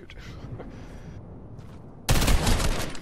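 Video game gunfire arrives as a sudden loud burst of rapid shots near the end, after a quieter stretch of faint game noise with some talking.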